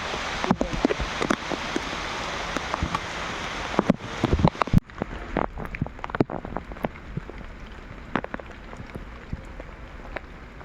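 Heavy rain pours down steadily during a village fishing trip, a dense wash of drops with sharp close patters and splashes scattered throughout, strongest at first and easing slightly later.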